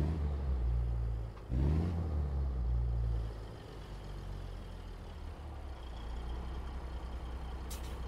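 Kenworth K100E truck engine from American Truck Simulator hauling a B-double box trailer, a steady low diesel drone with a brief surge and hiss near the start, then settling into a quieter constant rumble.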